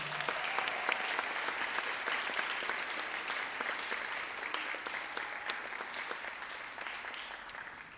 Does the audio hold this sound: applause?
yes